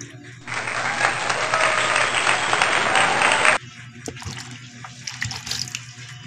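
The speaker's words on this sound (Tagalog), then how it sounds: "Linisan po natin ng maayos bago ibabad sa tubig." Tap water gushes steadily for about three seconds while elephant plant roots are cleaned, then cuts off abruptly, leaving quieter handling noises and faint room sounds.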